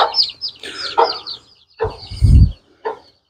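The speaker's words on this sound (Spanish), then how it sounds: "Acá están los pollitos." Chicks chirp in short high peeps at an abandoned rural school, several quick calls in bursts with pauses, one lower, louder thump-like sound midway.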